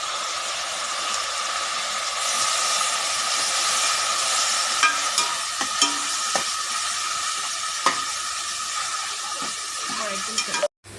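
Onions and chopped tomatoes fry for chicken biryani in a steady, close sizzle that hisses continuously, with occasional clinks and scrapes of stirring toward the end.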